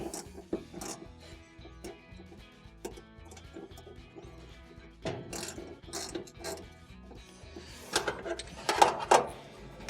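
A wrench or ratchet tightens a bolt on a GE dryer drive motor, giving irregular metallic clicks, clanks and rattles at close range, growing busier and louder toward the end.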